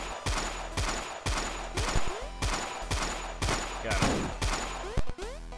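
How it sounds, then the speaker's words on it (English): An Uzi submachine gun fires in the video game Fighter of Evil, with about seven sharp bursts of rapid shots at roughly even intervals, loud and close, with no voice over it. "I forgot I had an Uzi"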